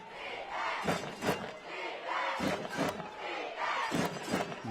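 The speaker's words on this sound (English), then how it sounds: "You can hear the crowd here right in front of us really getting into this one early." A crowd cheers at a high school football game, a steady roar with several louder swells and bursts, heard from nearby in the stands.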